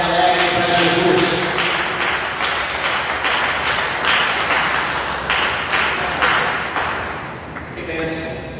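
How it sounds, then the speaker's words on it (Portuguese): Church congregation gives a sustained round of dense, steady applause lasting several seconds, with a voice speaking over it at the start and again as the clapping fades. "dê uma salva de palmas bem alegre para Jesus"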